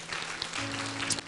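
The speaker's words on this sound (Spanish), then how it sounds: "¿Puedes darle un aplauso de alabanza a nuestro Señor Jesús?" A church congregation at a Spanish-language service gives a short burst of applause, with a sustained musical tone running underneath.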